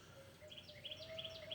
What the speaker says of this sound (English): I can hear the turkey gobbling pretty good